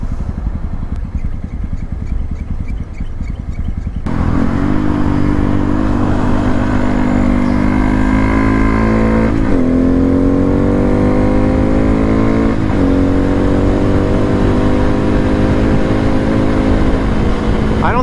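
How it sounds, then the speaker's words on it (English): A Honda Grom or Benelli motorcycle engine sits at a low idle, then is revved up and held at a higher pitch with a couple of throttle blips, loud and close, no talking. "But then if you want to give it a rev,"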